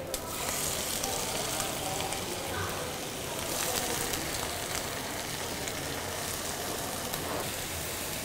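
Green onion, garlic and blanched bok choy hitting a small amount of hot fat, a loud continuous sizzle and crackle throughout with a few sharper pops.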